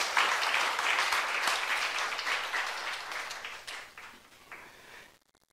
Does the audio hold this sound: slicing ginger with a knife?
no